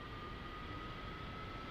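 Steady broadband jet-engine roar with a thin constant whine, a military aircraft engine spooling up during start in a flight simulator game, loud and unbroken throughout.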